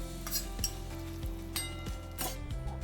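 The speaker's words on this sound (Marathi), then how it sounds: "फ्लेम लो ठेवून थोडं आपण हे रोस्ट करून घेऊ." Whole spices—dried red chillies, coriander seeds, cloves, black pepper, cinnamon, star anise—and a teaspoon of cumin roasting in a pan on a low flame, with repeated stirring scrapes and clinks of a spoon over a soft sizzle.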